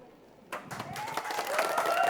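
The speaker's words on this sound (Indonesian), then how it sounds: "Dan beri tepuk tangan yang meriah" A studio audience at a televised high-school quiz competition bursts into applause for a team representative, clapping starting abruptly after a quiet moment and building steadily, fairly faint and roomy, with a host's voice mixed in.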